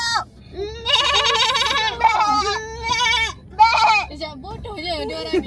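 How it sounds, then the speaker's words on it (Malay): Several loud, wavering goat bleats in quick succession, close by, with voices talking in the background during Ramadan in Kelantan. "Dia kambing ke apa? Besar."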